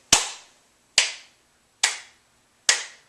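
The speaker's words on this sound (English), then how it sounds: "I'll clap and we can say it together" A saxophone teacher claps a rhythm count. Four sharp, separate hand claps land close to the microphone at roughly even intervals, with silence between them and no talk.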